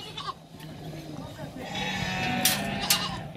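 Goats and sheep bleat on a farm in Alagoas, Brazil, a herd of ewes and does sired by a purebred buck, with several rising calls over steady background bustle while someone speaks.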